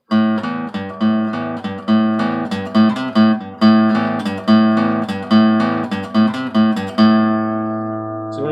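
Played at regular tempo, the pentatonic guitar riff from a song comes as a brisk run of about sixteen plucked notes and chords, close and clean with no other sound, the final chord ringing out.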